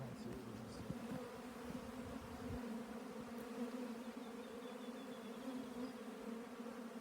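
Honey bees in an opened colony hive give off a steady, dense buzzing drone that holds at an even level throughout, with no voices over it.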